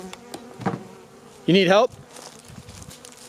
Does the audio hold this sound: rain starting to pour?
no